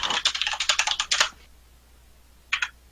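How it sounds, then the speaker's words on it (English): Fast typing on a computer keyboard. A dense burst of close key clicks runs for over a second, then pauses, and a short final flurry of keystrokes follows. "Rapid typing."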